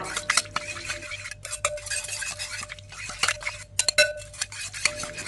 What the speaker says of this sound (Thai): ต่อไปค่ะก็คนให้ส่วนผสมเข้ากัน